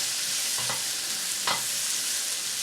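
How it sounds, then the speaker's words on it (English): Garlic is stir-fried in a pan for sweet and sour sauce, a loud, even hissing sizzle filling the space, with two short scrapes of a utensil and no voices. "You don't want to burn the garlic, but on the same token you do want to cook the garlic"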